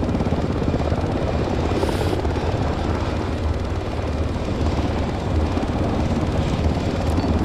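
A helicopter in a military simulation game drones steadily and loudly with a rapid rotor chop and engine rumble, constant throughout with no talk.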